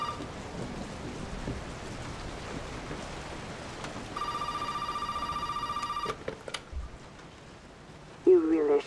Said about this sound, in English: Okay, so the phone is ringing.